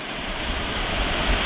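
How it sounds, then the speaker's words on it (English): A waterfall in Wawa, Ontario pours in a steady, dense rush of falling water, close and continuous with no other sounds. "That's the waterfall."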